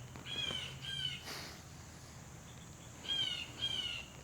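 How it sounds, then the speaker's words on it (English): A sparrow chirping outdoors, two short bursts of bright chirps at the start and two more near the end, fairly clear against a quiet, faintly hissing background. "We got a bird here. I think it's a sparrow."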